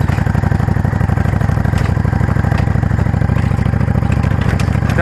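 A tractor engine idles steadily at close range, a loud, low, rapid chugging with a clattering mechanical rattle that holds constant throughout, with no voices.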